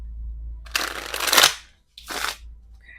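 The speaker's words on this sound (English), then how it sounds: "Give it a shuffle." Tarot cards are shuffled by hand in two close, crisp bursts of riffling and rustling paper, the first longer and the second shorter, with a quiet pause between them.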